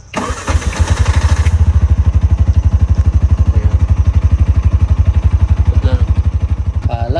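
A tuk tuk's small engine runs steadily in reverse, its loud, rapid putter close by with a throbbing low chug and light mechanical clatter, no one talking.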